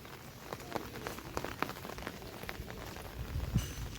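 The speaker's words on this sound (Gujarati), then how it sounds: "હજી વરસાદ ચાલુ જ છે" Light rain patters on a surface, scattered drops ticking irregularly over a soft background hiss, fairly quiet and close.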